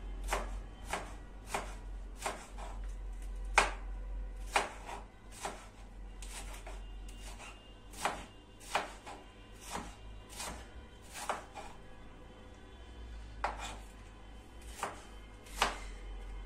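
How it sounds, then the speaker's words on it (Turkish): Pepper being chopped with a knife on a wooden cutting board, a series of sharp, close knocks at an uneven, unhurried rhythm over a quiet low background hum. "Biberi de eti doğradığım tahtada doğruyorum arkadaşlar."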